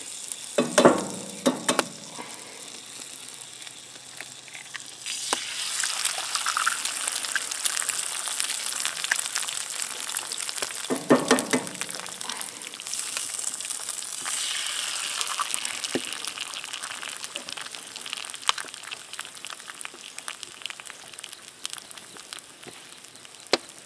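Grass-fed beef sizzles loudly in a hot pan over an open fire, a steady bright crackling hiss that swells and eases, with occasional stirring and scraping noises.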